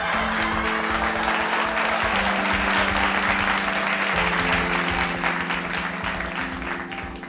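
Sustained audience applause at a comedy poetry event, a dense steady wash of clapping from a crowd with a held musical tone underneath, tapering slightly toward the end.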